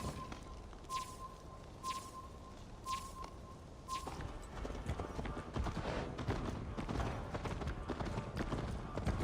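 In the Assassin's Creed Valhalla video game, a horse's hooves clip-clop in a steady, rhythmic gait, sharp and close at first, then denser under a rising wash of ambient game noise.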